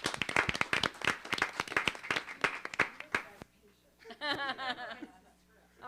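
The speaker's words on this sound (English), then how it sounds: "So we'll give one more round of applause." A board of education meeting audience breaks into applause of many clapping hands that builds and fades over about three seconds, followed by chuckles and light laughter.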